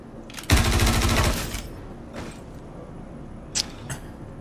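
Rapid automatic gunfire in the space game Star Citizen, a loud burst of about a second followed by a few single sharp shots and their echoes.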